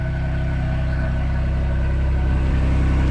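A Ford Bronco's engine idles steadily through its stock muffler, a loud, continuous low rumble with even exhaust pulses and no voices.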